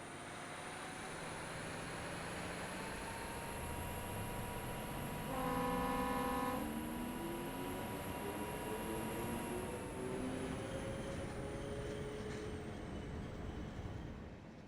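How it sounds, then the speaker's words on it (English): A ČD 750.7 diesel locomotive pulling away in the Train Simulator Classic video game, a steady low engine drone with rising tonal whine as power builds, continuous and fairly quiet with no voices. "Let's take a lump of power and get going places."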